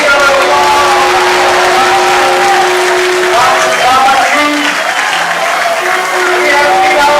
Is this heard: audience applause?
yes